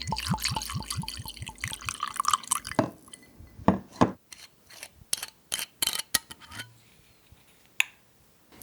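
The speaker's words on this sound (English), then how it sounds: "the clinking of her Daily Bell scotch and ice cubes" A glass of Daily Bell scotch on ice chinks several times, with crisp, irregular clinks of the ice cubes against the glass. A rhythmic mechanical ticking runs underneath at first, then the clinks continue, close and sparse, in a quiet room.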